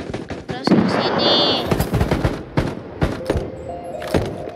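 Rapid bursts of automatic gunfire from the mobile shooter Battle Prime crackle loudly in several volleys, with sharp single shots and in-game effects layered over the shooting.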